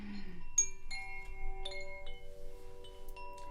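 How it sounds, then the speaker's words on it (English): Chimes struck one after another during a summer solstice sound bath, clear tones ringing out and overlapping as each note sustains and slowly fades, soft and alone in a quiet room. "as you hear the sound of these chimes"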